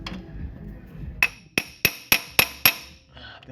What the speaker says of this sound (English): And this little hammer gives me more room to swing.